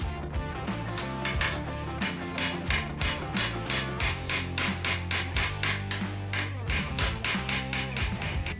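A hammer taps a metal punch to drive a worn rocker arm bushing out of a rocker arm, a close, steady series of sharp metallic strikes at an even, quick rhythm throughout.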